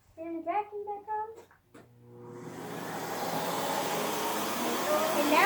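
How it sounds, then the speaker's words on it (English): A vacuum cleaner fitted with a small attachment starts up after someone speaks, then runs as a steady, loud, broadband whirring drone that keeps getting slightly louder. "Take your little attachment, put that on, turn the vacuum back on."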